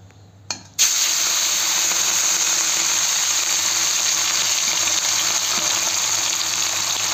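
Pieces of fish are rinsed under running water: after a brief clatter, a steady gush of water pours continuously and fairly loudly, with no voices.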